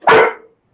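A single sharp dog bark sounds close and loud, then cuts off quickly into silence.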